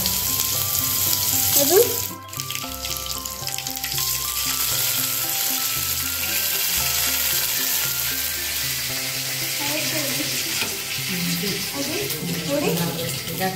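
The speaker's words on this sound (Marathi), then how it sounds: "मग तेल गरम झाल्यावर लसूण टाकायची. राई टाक थोडी" Garlic and mustard seeds sizzle loudly in hot oil in a home kitchen, a continuous close crackling fry with occasional stirring, while a person speaks briefly over it.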